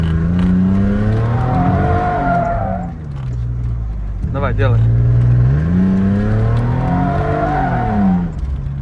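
A Mercedes-Benz W220 drifts with its engine revving hard. It climbs through two long sweeping rev rises with a brief throttle blip between them, loud and close, while a voice speaks briefly.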